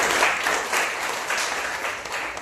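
Loud, sustained applause from an audience at an education recruitment workshop held at a teachers' college in Pune, steady dense clapping with no talk over it.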